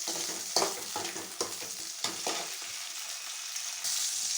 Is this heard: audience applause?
no